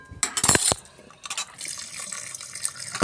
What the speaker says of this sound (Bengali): এবার ছাঁকনিতে ঢেলে দেবো, এই যে বেসিনে, আর কলটা চালিয়ে দেবো।